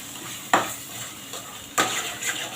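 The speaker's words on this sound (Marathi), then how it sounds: "पावडर मसाले इथे मिक्स करून घ्यायचे आहे आपण याला थोडा वेळ असे शिजवून घेऊ" Paneer masala powder, salt and spices being stirred while they cook in a pan, a low sizzle broken by two distinct metallic scrapes of a spoon and a lighter stir between them.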